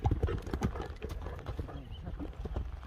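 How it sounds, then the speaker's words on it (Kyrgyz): Horse hooves clip-clop in a rapid, uneven rhythm at a horse race, close and fairly loud over a rumbling outdoor background, with a faint voice briefly audible. "экинчи номердеги атта чыгып калды"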